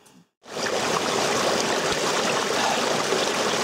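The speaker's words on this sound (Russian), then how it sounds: "Проверяем воду вот в таком лесном ручье." A forest stream flows in a steady, close, full rushing wash that begins after a brief quiet moment and continues evenly, with no voices.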